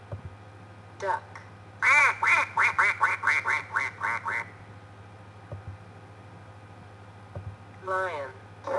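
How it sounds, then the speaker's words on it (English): A run of rapid, nasal duck quacks, loud and close, followed by a few scattered quiets and another short burst of quacking near the end, over a steady low hum. "Duck."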